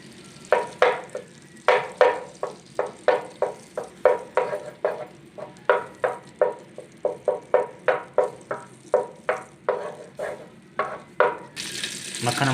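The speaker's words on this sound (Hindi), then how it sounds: "मक्खन को अच्छी तरह गर्म कर लेंगे।" Butter heats in a pan on the stove with a steady run of short, rhythmic sizzling and stirring sounds, about two per second, close and moderately loud, with no talk.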